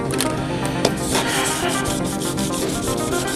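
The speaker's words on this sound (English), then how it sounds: "polish the top of the rails with 1500 grit" Fine 1500-grit sandpaper rubs steadily over the tops of model railroad rails on a custom curved turnout, a continuous close scratchy sanding with quick back-and-forth strokes and no voices.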